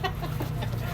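A mother hen clucks with chicks nearby in a yard in Biñan, Laguna, a short burst of close, throaty clucks.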